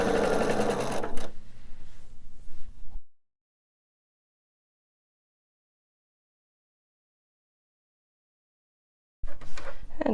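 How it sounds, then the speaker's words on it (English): Sewing machine running a scant quarter inch seam, a fast close whirring stitch for a few seconds, then a long silence before the motor starts up again briefly at the end. "Just going to continue with that same scant 1/4 inch seam, pulling my pins out as I go."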